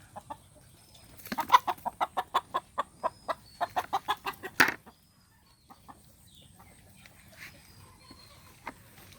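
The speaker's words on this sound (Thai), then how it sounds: "ไก่ตามมาละ" A chicken clucks in a quick rhythmic series of short notes nearby, ending in a louder squawk, then quiet with faint outdoor background.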